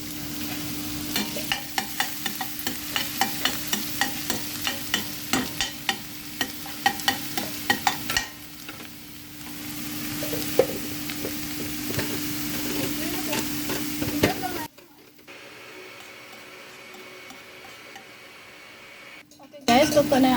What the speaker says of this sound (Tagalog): Okay guys, lutuin na natin ang ating bawang.